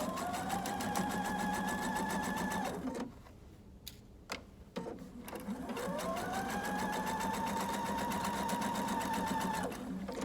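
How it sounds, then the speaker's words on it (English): Domestic sewing machine running steadily as it stitches the inner leg seam of pajama pants, a fast rhythmic whirring that pauses for about two seconds with a few soft clicks, then resumes at an even pace until near the end. "I'm not really worried about sewing all the way to the edge of my fabric"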